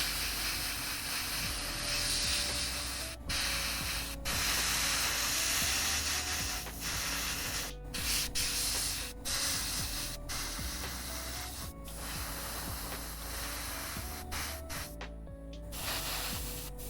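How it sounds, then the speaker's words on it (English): An airbrush sprays primer onto a miniature's face, a continuous close hiss that carries steadily throughout with brief interruptions and faint background music. "Bro is just raw dogging that airbrush"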